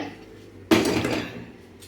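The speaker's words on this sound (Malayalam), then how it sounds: "അപ്പോൾ ഞാൻ ചട്ടി അടുപ്പത്ത് വെക്കട്ടെ" A single metallic clank as a cooking pot for mango pickle is set down on a stove, ringing briefly before fading; close and fairly loud.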